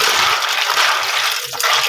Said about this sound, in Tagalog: Lagyan uli natin ng tubig para mababad.